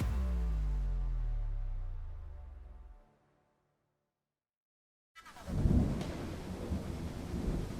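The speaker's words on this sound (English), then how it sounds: "That's 3 times for the thunder." Thunder in the Roblox game Too Many Endings rumbles loudly and fades to silence, then a fresh crack of thunder bursts in with heavy rain-like noise, with no voices.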